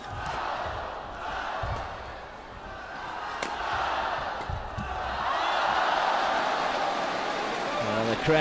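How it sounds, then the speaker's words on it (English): Spectators at a 2015 Sudirman Cup badminton match between China and Germany make a sustained, rising crowd noise through a rally, with scattered shouts and a steady murmur that swells louder toward the end. "Crowd getting involved in that rally."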